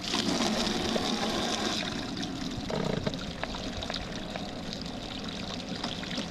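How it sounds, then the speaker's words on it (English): Water pumped into the live well of a pontoon boat, a steady loud rushing pour that runs continuously from start to end, close up and alone with no voices. "You see water is running into the live well."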